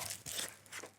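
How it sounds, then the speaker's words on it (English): A knife cutting into a crispy pan-baked pizza crust, a brief close crunching and crackling of a few quick strokes. "So let's cut into this"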